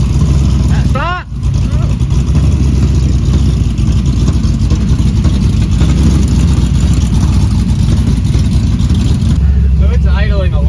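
A Chevrolet C10 truck engine runs at a steady, loud, low rumble, idling slightly rich throughout, with a brief squeaky sound early on and again near the end.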